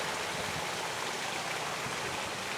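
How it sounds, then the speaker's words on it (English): Heavy rain pouring down outdoors at night, a dense, steady hiss of water that holds at an even level throughout, with no voices. "Just pouring down rain."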